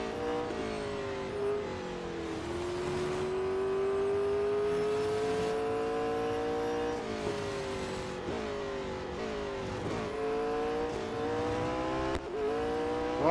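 A race car engine screams around Silverstone in Real Racing 3, loud and continuous, with the pitch climbing through the gears and dropping sharply at each shift, several upshifts and lifts across the run.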